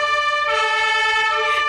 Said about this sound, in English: Horn, honk, traffic jam.